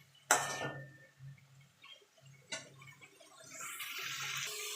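Utensils clink against a pan of potato, cauliflower and duck egg curry, then hot water pours in with a rising, steady rush that grows louder toward the end.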